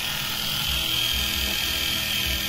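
Small Syma X30 drone motors whine steadily at a high, buzzing pitch after switching on, close and continuous, with no speech over them.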